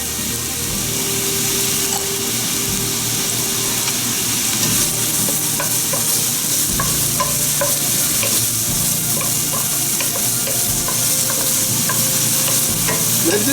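Half a chopped onion sizzles steadily in a tablespoon of olive oil in a pan for a Guatemalan chicken-in-cream dish, with a constant broad frying hiss and occasional light stirring clicks, close and fairly loud, without talk.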